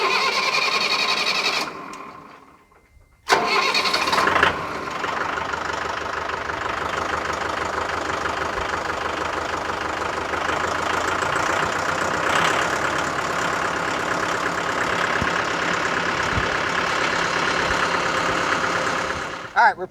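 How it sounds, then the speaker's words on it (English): A Mahindra 4540 4WD tractor diesel engine cranks briefly, then catches and settles into a steady, loud, knocking idle that runs on for many seconds, with a short gap of near-silence before it starts. "Let's crank it up and see if that check engine light's off."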